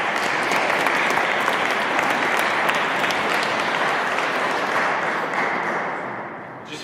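Audience applause at a political hustings event, a loud, dense wash of clapping from a sizeable crowd that sustains evenly for several seconds before tapering off at the end.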